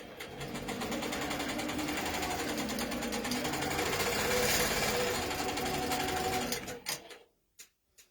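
Longarm quilting machine stitching a straight line through wadding and backing, a loud, steady, rapid mechanical chatter that holds for about seven seconds, then stops, leaving a few isolated clunks.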